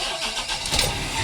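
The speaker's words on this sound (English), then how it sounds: "now I can start the truck again" A transfer truck's diesel engine cranks and catches, settling into a steady, rough mid-pitched idle that stays loud and close throughout the short moment.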